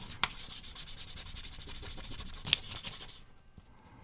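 Paint being rubbed off the sides of dice, a continuous close scratchy rubbing with a few sharper scrapes, stopping abruptly near the end, no talking.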